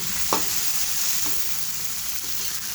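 Tomatoes sizzle in a hot pan while being stirred for a Filipino ginataang tilapia dish, giving a steady frying hiss with a few light scraping stirs near the start.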